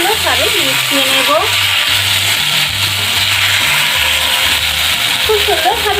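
Potatoes fry in a hot pan with a loud, steady sizzle, while a spoon stirs and scrapes. Music plays underneath throughout.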